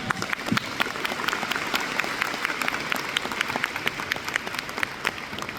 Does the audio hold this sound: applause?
yes